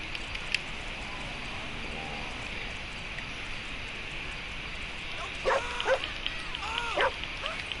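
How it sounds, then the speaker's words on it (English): A dog in GTA barks and yelps in a few short bursts near the end, heard over steady background noise of the game. "The dog's attacking people."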